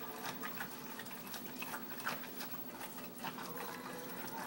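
Water is stirred into tomato paste in a pan, giving a soft, continuous liquid swishing and trickling with small splashy accents, quiet and close.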